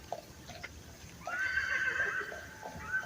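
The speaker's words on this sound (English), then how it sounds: "the damn horse don't like the so-called white man for real" A horse gives a single loud neigh that rises and wavers for a second or two, with faint background noise before it.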